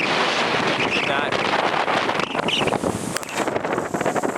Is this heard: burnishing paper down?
no